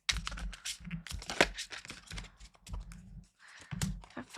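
Crisp rapid riffling and flicking of stiff tarot cards being shuffled, several quick bursts close by with short pauses between, no talking.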